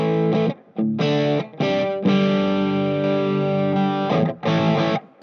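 Electric guitar through a Divitone Jam 20 portable smart amp on its tweed overdrive model, played loud and close as a run of sustained distorted chords and single notes, with short gaps between phrases.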